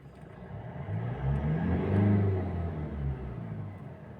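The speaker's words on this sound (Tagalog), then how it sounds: "So ngayon, rev natin." A Mitsubishi Strada pickup's 4N15 diesel engine revs up in a garage, a steady low rumble swelling to a peak midway and easing back down, close and loud with no talk over it.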